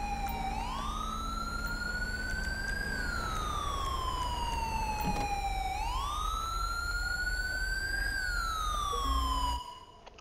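An ambulance siren in GTA V with the LSPDFR mod wails loudly and steadily, rising and falling in long sweeping cycles, before cutting off abruptly near the end, with no talking over it.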